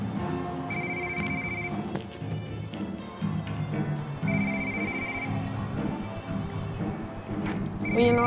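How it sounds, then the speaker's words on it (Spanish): A telephone rings in repeated bursts of electronic trilling, moderately near, over a soft rain-like background hiss with no voices. "Oye, ¿no vas a contestar el teléfono?"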